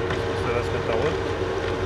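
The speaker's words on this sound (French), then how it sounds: "on entend la pompe qui essaye de s'amorcer" A pump struggles to prime, giving a continuous low droning hum with rumble and slight fluctuation, loud and close throughout the short stretch.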